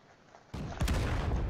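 A tank's main gun fires in World of Tanks, a sudden loud boom that rolls into a sustained heavy rumble, with a second, louder blast close behind it and no talking.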